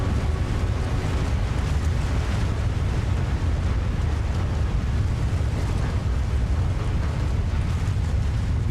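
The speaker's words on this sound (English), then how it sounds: "Surging inland at up to 43 miles per hour, the tsunami slams into the city." A tsunami wave surges inland and slams into a city, rendered as a loud, unbroken roar of rushing water and turbulence, dense and steady throughout with heavy low rumble.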